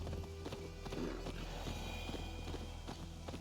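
Horse hooves gallop in a steady rhythmic clip-clop while riding in the Assassin's Creed video game, continuous and fairly close throughout, with a low background hum beneath.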